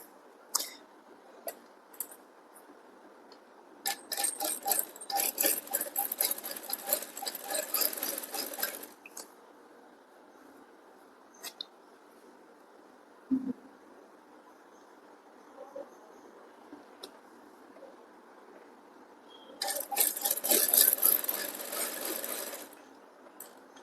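A sewing machine stitches the neckline of a blouse in two bursts of rapid, even whirring and clattering separated by a quieter stretch of small handling sounds, fairly close and clear.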